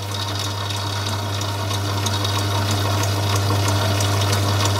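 A small metal lathe on a beginner's steam locomotive build takes very light repeated spring cuts on a tiny screw, giving a steady, close motor hum and whirr with faint cutting hiss throughout.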